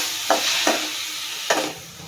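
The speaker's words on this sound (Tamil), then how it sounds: "நம்ம கட் பண்ணி வச்சிருக்கிற தக்காளி இதில் சேர்த்துக்கலாம்." Cut tomatoes sautéing in a pan for prawn thokku give a close, steady sizzle, broken by three bursts of stirring.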